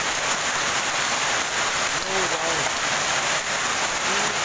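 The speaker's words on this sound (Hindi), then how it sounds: "ये देखिए किस तरह से ओले पड़ रहे हैं" Hailstones fall hard during a severe hailstorm in Delhi, making a dense, continuous loud patter, with a person briefly exclaiming over it.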